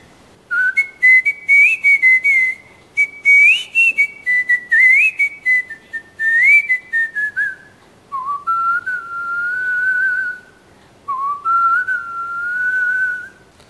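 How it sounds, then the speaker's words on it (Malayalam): A man whistles non-stop with his tongue, a clear, loud melodic whistle in short bursts and longer sustained phrases, solo and close with no talking. "നോൺ സ്റ്റോപ്പ് വിസിലിലൂടെ ഗിന്നസ് റെക്കോർഡും"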